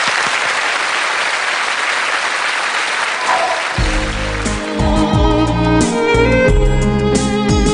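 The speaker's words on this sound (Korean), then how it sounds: "박수로 힘차게 환영을 해주시고요" A studio audience at a televised Korean lecture show claps vigorously to welcome the speakers, a dense burst of applause that carries on as music swells in over it.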